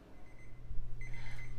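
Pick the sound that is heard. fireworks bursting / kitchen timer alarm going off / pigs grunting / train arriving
kitchen timer alarm going off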